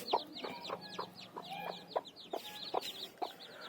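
Chickens and newly hatched chicks on a small poultry farm, a rapid stream of high cheeping and clucking calls overlapping closely, with no talk.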